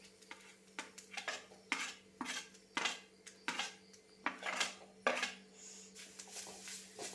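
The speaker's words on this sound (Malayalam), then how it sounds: "ഒരു പാൻ അടുപ്പിൽ വെച്ച് ചൂടായിട്ടുണ്ട് ഇതിലേക്ക് തേങ്ങ ഇട്ട് കൊടുക്കാം" Repeated scraping and clinking of a spatula against a pan, roasting grated coconut in irregular strokes with a faint steady hum underneath; no talking.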